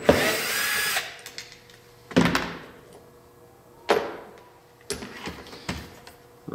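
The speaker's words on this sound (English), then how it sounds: "Then I have four screws to remove the motor." Small power screwdriver backing out the motor screws on a 1/12 scale RC hydraulic excavator, four short whirring bursts each ending in a fading tail, close with no talk.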